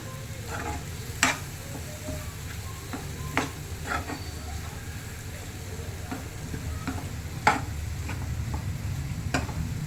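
Steady sizzling of tamarind juice cooking in a tempering in a hot pan for bisi bele bath, with a few sharp pops and crackles breaking through now and then, close up and continuous.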